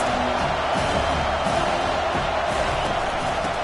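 Dense, steady roar of a large stadium crowd at a college football game, loud and continuous throughout with no lulls or distinct individual voices standing out.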